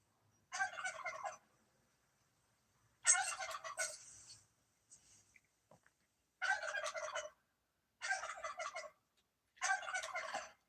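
Loud, close turkey gobbling in theHunter: Call of the Wild, five rattling bursts spaced a few seconds apart with silence between them and no voices.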